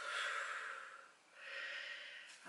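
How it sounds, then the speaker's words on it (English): Slow deep breathing during a gentle morning yoga session, a long airy inhale through the nose followed by a steady exhale through the mouth, close and alone. "Lovely big inhales through your nose, exhales through your mouth"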